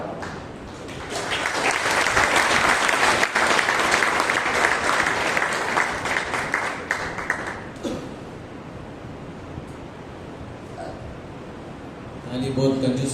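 Audience clapping at a Monday prayer meeting, a dense wash of applause that swells, holds steady, then thins out and fades, with a voice and faint background noise coming back near the end.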